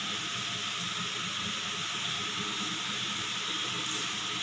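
Urad dal dropped into heated oil for wheat rava upma, giving a continuous broad hissing sizzle that stays loud and even throughout, with no voice.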